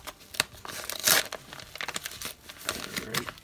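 A sealed mail package of hockey trading cards is cut and ripped open, giving close, rustling crinkles of plastic and paper with a louder tearing burst near the middle, then scattered crackles continuing.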